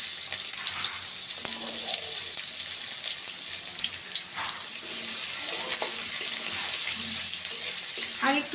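Onions hit hot oil in a wok and fizz with a steady, bright sizzling hiss that holds evenly throughout, with faint clinks and stirring beneath it.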